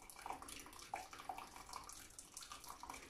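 Lemon, lime and vinegar poured into a jug while making elderflower champagne, a steady splashing trickle of liquid running for a few seconds with small bright splashes, close and fairly quiet.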